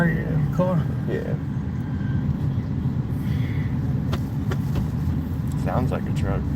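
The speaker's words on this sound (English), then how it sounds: "Sounds like a truck." A work service truck engine idles steadily at close range under a low, continuous rumble, with people talking over it throughout.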